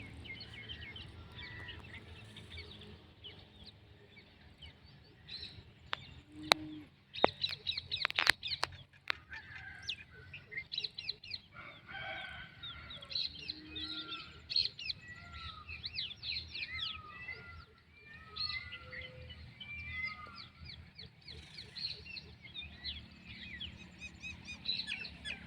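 A dancing peacock gives repeated loud, honking cries at moderate distance, with smaller bird chirps scattered among them and a few sharp knocks early on; nobody speaks.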